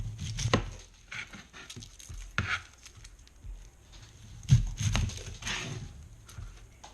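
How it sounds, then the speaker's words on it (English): A knife trims the ends off an onion on a cutting board, giving several close, sharp chops and thuds spread unevenly over a few seconds in a quiet kitchen. "I'm going to cut the ends off of my onion"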